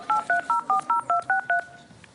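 Telephone dialing tones: eight evenly spaced DTMF beeps in a steady rhythm, close and clear, each a short two-tone burst with brief gaps between them.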